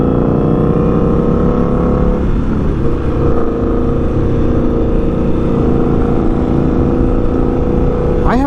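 An Indian Scout motorcycle engine pulls hard in second gear while being ridden on back roads, a loud steady drone with rising harmonics, no voices.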